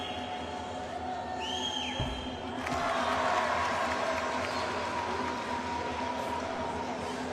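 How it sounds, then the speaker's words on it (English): Angolan fans in an arena crowd at a women's basketball game break into a sudden burst of applause and cheering after a free throw, swelling loudly midway and then settling into a sustained crowd roar. "one free throw, you just heard like a huge burst of applause over there"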